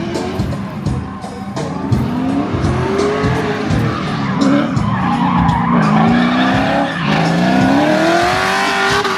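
A drift car's tires skid and squeal loudly on a drag strip, with wavering screeches over a roaring, revving engine. The sound holds close and steady throughout.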